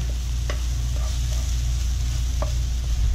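Fruit and onions cook in a pan for roasted tomato pintxos with onion confit, apple, plum and bacon, giving a steady close sizzle with a few brief stirring clicks of a utensil and no talking.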